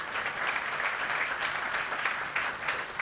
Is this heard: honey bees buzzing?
no